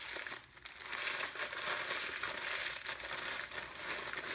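Ritz crackers crinkle and crackle in a bag, a continuous dry rustling close up with louder crunchy bursts as the bag is handled.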